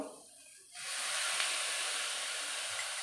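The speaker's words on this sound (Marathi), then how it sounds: "आणि टोमॅटो पण छान परतून घेऊया मऊ" Tomatoes sizzle in a hot pan for street-style masala pav, a sudden steady hiss rising after a quiet start and holding close and loud to the end.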